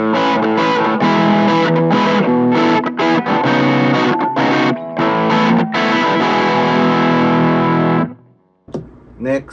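Electric guitar overdriven by a Boss Blues Driver pedal into a Boss IR-2 amp unit plays a dense, crunchy riff of sustained chords and notes, loud and gritty, stopping abruptly near the end before brief residual noise.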